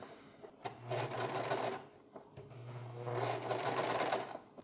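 A sewing machine runs two bursts of rapid, whirring stitching along the inside seam of a handmade button-up shirt, close and clear, with a short pause between runs and no voices.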